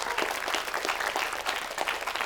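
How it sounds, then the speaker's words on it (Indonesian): Studio audience applauding for a guest named Hasanah on an Indonesian religious talk show, steady dense clapping filling the whole stretch at even loudness with no voices over it. "Tepuk tangan buat Hasanah ya."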